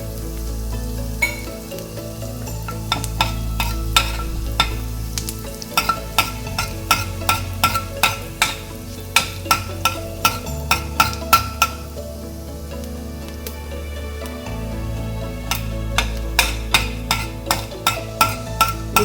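Cumin, ajwain and asafoetida sizzle in a spoonful of hot oil while a metal spoon strikes the pan in quick, regular clinks, the steady frying hiss running underneath throughout.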